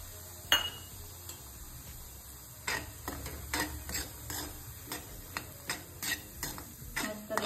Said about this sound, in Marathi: आता आपण रवा टाकू तुपामध्ये आणि भाजून घेऊ।